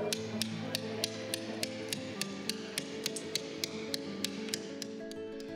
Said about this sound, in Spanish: podemos utilizar el escafilador